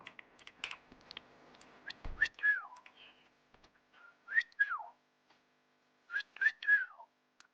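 A person whistles a few rising-and-falling phrases in a Thai roleplay game session, clear and close, with short pauses between them and a brief knock partway through.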